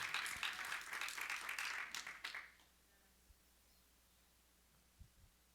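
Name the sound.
congregation clapping in church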